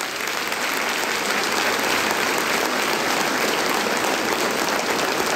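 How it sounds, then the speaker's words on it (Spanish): A church congregation applauds loudly for the Lord during a sermon, a thick, sustained wash of many hands clapping that fills the room evenly from start to finish. "Ahora, un aplauso fuerte al Señor."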